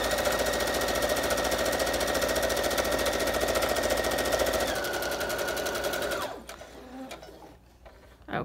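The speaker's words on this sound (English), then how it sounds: "So we will just sew it all the way down. I'm just going to do a straight stitch here." Sewing machine running a straight stitch through junk journal pages and fabric, a rapid steady mechanical chatter held for about six seconds before stopping, then quiet handling sounds.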